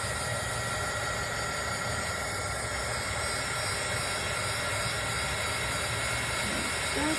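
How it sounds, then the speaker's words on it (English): A Darice heat tool blows steadily for heat embossing a stamped card, giving a continuous, loud, even airy roar with a low motor hum that holds unchanged throughout. "Darice heat tool here to heat emboss this. And I'm going to turn it on."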